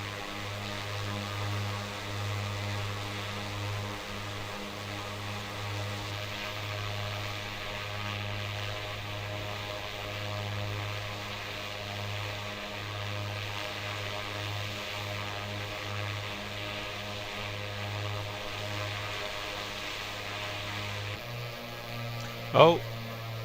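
The twin-engine A2A Aerostar in Microsoft Flight Simulator gives a steady, droning propeller-engine hum, holding even and continuous throughout with a brief click near the end.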